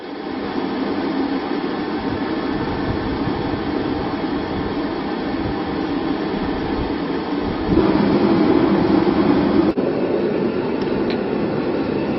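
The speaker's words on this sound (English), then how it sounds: "we've got a nice big bottle of gas, let's get the forge lit, and let's get up to heat" Gas forge fired from a large gas bottle for a blacksmith's leg vice restoration, a loud continuous roaring rush that holds steady and swells slightly near the end, with no talk.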